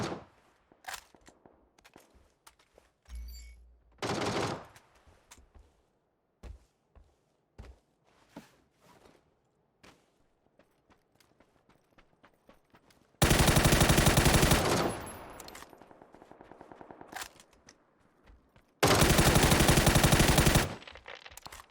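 Automatic gunfire in the battle royale game PUBG on console: two loud sustained bursts of rapid shots, each lasting a few seconds, separated by quieter footsteps and a brief earlier burst.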